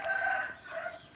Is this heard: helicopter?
no